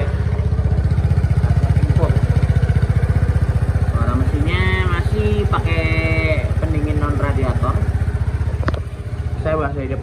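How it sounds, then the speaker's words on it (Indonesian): A Kymco Like 150i scooter engine runs at a close, smooth, steady idle, with a person talking over it for much of the time. "Suara mesinnya seperti ini Om nih."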